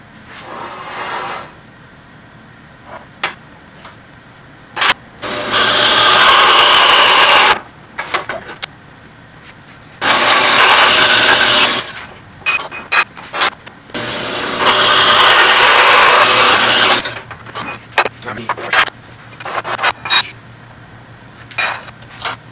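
Power saw cutting pieces of wood for a DIY hole punch build, three loud sustained cutting bursts of a few seconds each, separated by quieter clatter and handling of the workpiece.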